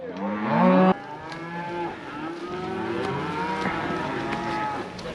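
A cow lets out one loud, close moo in a meadow, followed by softer lowing and mooing from the cattle herd continuing in the background.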